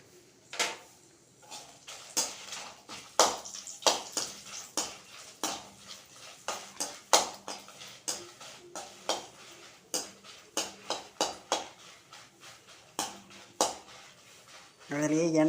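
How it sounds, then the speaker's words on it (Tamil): Twenty dried red chillies roast in sesame oil with garlic and asafoetida in a pan for curry leaf powder, stirred with a steady run of close scrapes, knocks and clinks against the metal. "பெருங்காயம் பூண்டெல்லாம் வதக்கிட்டு அதுலேயே இப்போ இந்த மிளகாயை போட்டு வறுக்கிறேன்"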